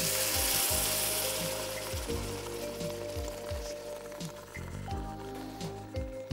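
Broth is poured into a hot pan and sizzles with a steady, hissing crackle, broken by repeated low bubbling thumps.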